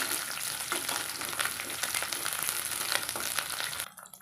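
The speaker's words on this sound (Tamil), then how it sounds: "சின்ன வெங்காயத்தை வந்து சேர்த்துக்கலாங்க. சேர்த்து வதக்கலாங்க." Small onions and curry leaves sauté in hot oil, giving a steady close sizzle with scraping stirs throughout before it cuts off abruptly near the end.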